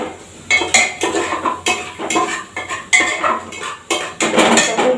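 Vegetable biryani spices are mixed in a metal pot with repeated loud scraping and clanking strokes of a spoon, close and rhythmic, with no talking.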